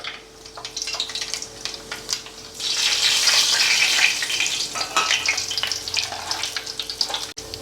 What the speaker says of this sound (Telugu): ఇప్పుడు ఆవాలు టప్ టప్ అంటున్నాయి